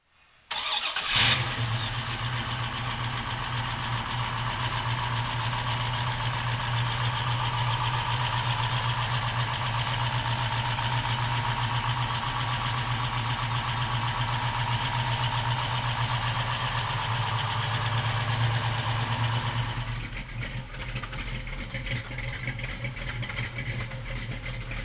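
A 1964 Pontiac GTO convertible's big engine idles with a deep, lumpy rumble right after starting up, running steadily and loudly for a long stretch before the tone shifts near the end.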